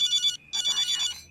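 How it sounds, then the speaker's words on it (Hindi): A phone rings in a home during dinner, a bright electronic ringtone repeating twice in quick bursts with a short gap between, clear and close. "तुम फोन क्यों नहीं उठा रहे हो?"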